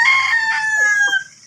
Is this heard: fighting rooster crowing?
yes